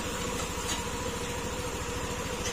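An Easyride 150 motorcycle engine idles steadily after repair, a quiet, even low-pitched putter close by with no voices.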